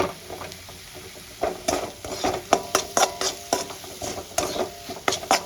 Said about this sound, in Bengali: এবার মশলাটা আমি কষাতে থাকবো